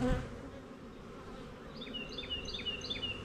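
Honeybees hum in a steady, dense buzz from an open hive during an inspection for queen cells, close and continuous, with a thin high bird chirp repeating faintly in the background.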